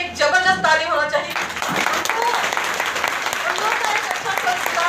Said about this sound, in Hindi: लेकिन फिर भी मम्मी पापा के लिए एक जबरदस्त ताली होना चाहिए